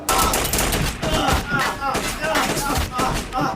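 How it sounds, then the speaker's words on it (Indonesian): A dense, loud barrage of gunfire from the Indonesian martial arts film Merantau, with rapid overlapping shots that continue steadily as a lift opens, mixed under a narrator's voice. "Saat lift terbuka, sambutan meriah dari perundungan peluru yang mereka dapat."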